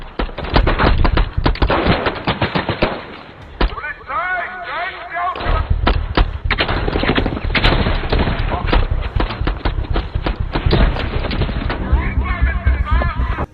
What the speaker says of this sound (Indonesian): sehingga aksi baku tembak pun terjadi